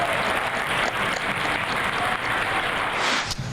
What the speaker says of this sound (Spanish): Un aplauso para todos por el cumplimiento que hemos dado.